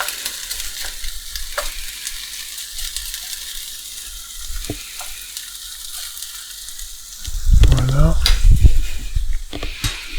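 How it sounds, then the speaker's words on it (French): Potato pieces sizzle in a frying pan under a steady hiss, with occasional spatula taps, and louder scraping and clattering near the end as they are stirred and spread out, close by. "On va mélanger bien répartir les pommes de terre dans la poêle."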